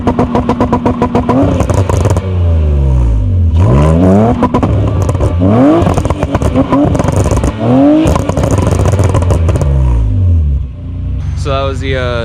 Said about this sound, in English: This is the MagnaFlow exhaust.